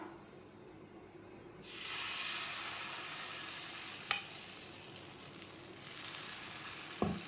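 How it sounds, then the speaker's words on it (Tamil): Sweet wheat dosa batter poured onto a hot griddle bursts into a loud, steady hissing sizzle after a quiet start, with a couple of sharp clicks along the way. "இப்போ தோசை ஊற்றிக்கலாங்க. நம்ம கல் காஞ்சிடுச்சுங்க, நம்ம தோசை ஊற்றிக்கலாம்."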